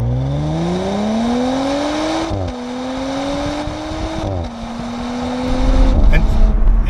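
An Audi S5 launches hard under launch control on a damp road, its engine note climbing steadily through two gear changes with brief dips at each shift, loud and close throughout as occupants talk over it.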